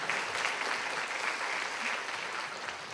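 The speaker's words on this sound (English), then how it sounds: "I think we should take a moment for an applause" An audience at a campus lecture on censorship and First Amendment rights claps together in steady, dense applause that holds evenly throughout, heard from within the hall.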